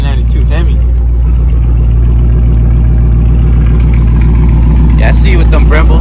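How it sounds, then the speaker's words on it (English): The 392 Hemi V8 of a 2020 widebody Dodge Challenger Scat Pack rumbles with a loud, deep, steady idle very close by, while people talk over it. "Damn, that 392 Hemi."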